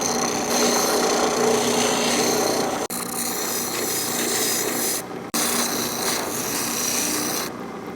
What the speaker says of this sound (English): we're over at the old drill press, and let's grind away on this thing